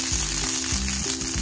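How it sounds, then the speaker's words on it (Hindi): Steady, loud sizzling of spices tempering in hot oil for langar-style dal, a continuous crackling hiss up close with a low hum underneath. "थोड़ा सा छोटा सा तड़का लगा रहे हैं ऊपर से"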